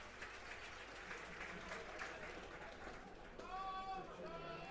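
Crowd at a baseball game between the Medicine Hat Mavericks and Regina Red Sox cheering and applauding, a broad roar of clapping and shouts that fades into scattered whistles and voices near the end.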